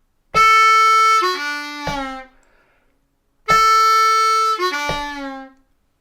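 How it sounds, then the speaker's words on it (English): Harmonica lick on a G harp from a song lesson: a held 4 draw sliding down to a 2 draw whole-step bend, played slowly twice with a pause between, bright and close, with no talk. "we're holding that 4 draw for about a beat and then sliding down to the 2 draw and then bending down to the 2 draw whole step bend"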